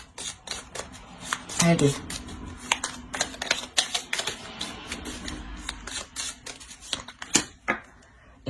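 Tarot cards are shuffled by hand, giving crisp riffling and slapping clicks in irregular bursts while someone speaks French.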